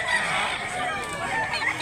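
Gamefowl roosters crow and cluck on a farm, including an eight-month-old Duke Hulsey Grey by McLean cross, several birds calling over one another under a dense, busy outdoor din of chatter.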